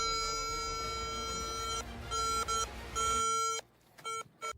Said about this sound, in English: the device suddenly started beeping like crazy